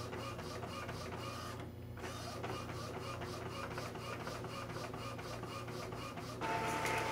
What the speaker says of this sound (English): Notice it comes in, the printhead starts to sweep over it.